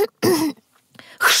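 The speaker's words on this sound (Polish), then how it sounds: "Chrząknął." A single person clears their throat, a short rough rasp followed by a quieter second scrape, voiced by a narrator reading an audiobook.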